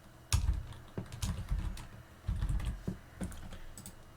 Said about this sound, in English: search for Settings by typing